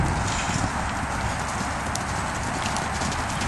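A mare's hooves clip-clop steadily on the footing of a round pen, an even rhythmic beat of close, moderately loud steps with no voices over them.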